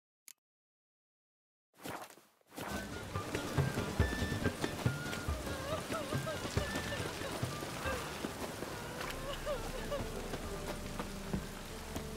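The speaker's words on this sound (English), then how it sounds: "Witches have conjured rain again." After a moment of silence, steady rain patters down densely and continuously, with scattered drips and taps close by, in the video game The Witcher 3.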